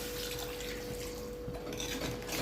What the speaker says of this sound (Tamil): இப்போ நம்ம தேங்காய் அரைச்சி வச்ச அந்த பாத்திரத்தில் இருக்கிற அந்த தண்ணி ஊற்றிக்கலாம்.